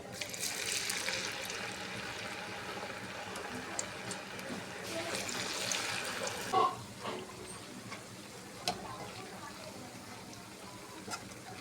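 Soybeans fry in oil until they turn crisp: a bubbling hiss that is denser at first, then thins into scattered pops and crackles.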